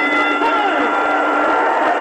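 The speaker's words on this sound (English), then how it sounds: "Crowd like that." Crowd at a boxing match cheers in a broad, continuous roar, with a commentator's voice talking over it.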